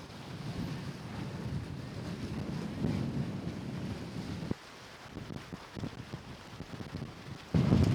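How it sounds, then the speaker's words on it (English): Strong gusting wind buffets the microphone on the Sicilian coast near Castellammare del Golfo, a loud continuous low roar that drops briefly midway before surging back hard at the end. "now the wind has really come up"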